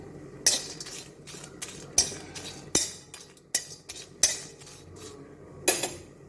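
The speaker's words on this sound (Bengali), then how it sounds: "শুকনো লঙ্কা দারচিনি এগুলো একটু নেড়ে নিই" A metal spoon stirs dry red chillies and cinnamon in a pan for a roasted spice mix for doi bora, giving about eight sharp clinks and scrapes at uneven intervals, close and alone.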